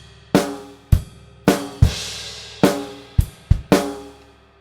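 Drum kit playing a two-bar rock groove from a Grade 3 exam piece, with sharp bass drum and snare hits in a steady rhythm and a crash cymbal washing out over the second bar, close and clear with no talking.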